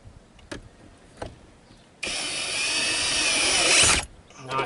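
Socket wrench fitted with an extension tightens a bolt on a Morse-type boat steering cable: a couple of faint clicks, then about two seconds of steady, bright close-up whirring ratchet noise that stops abruptly.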